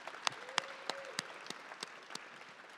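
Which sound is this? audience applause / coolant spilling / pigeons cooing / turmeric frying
audience applause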